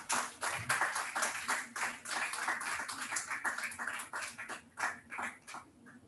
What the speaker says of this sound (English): Another round of applause for Maulik.